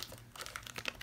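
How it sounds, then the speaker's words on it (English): A FabFitFun subscription box's packaging pulled open by hand, faint close crinkling and tearing in quick irregular bursts, without talking. "I'm going to try to attempt to open this. Let's see if I can pull this."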